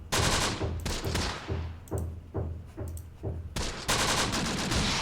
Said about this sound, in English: And we'll switch our tank fire over here